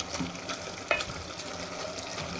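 Cauliflower stirred and mashed in a frying pan over a medium flame, with a couple of soft scraping knocks of a spoon over a faint, steady sizzle, close and quiet, no talking.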